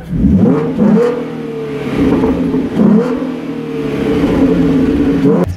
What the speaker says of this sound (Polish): A silnik V6 brzmi w ten sposób